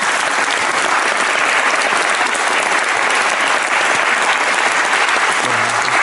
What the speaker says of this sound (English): While you're clapping, give Sam and I a big round of applause